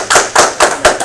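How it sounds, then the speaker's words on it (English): A live audience claps: four quick, sharp, evenly spaced hand claps, loud and close. "Give him a round of applause."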